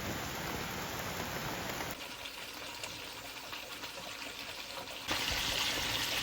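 Rain falls outdoors in Germany during a flood period, a soft, continuous patter and trickle of water on surfaces that is quiet overall and louder at the start and end, with no voices.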